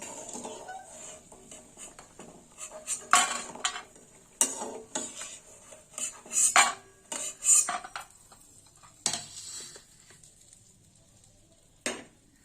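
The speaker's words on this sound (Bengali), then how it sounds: "বড়িটা ভাজা হয়ে গেছে, বড়িটা তুলে নেব।" Metal utensils clink and scrape against a pan as fried lentil dumplings are lifted out, with a series of sharp clatters and scraping bursts spread irregularly, close and moderately loud, no talking.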